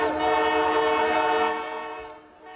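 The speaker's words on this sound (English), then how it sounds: "The Canadian Pacific Holiday Train is rolling into new towns today after stopping in Cottage Grove." Canadian Pacific Holiday Train horn sounding loud and close in a sustained, chord-like blast that holds steady before easing off slightly near the end, with no talking.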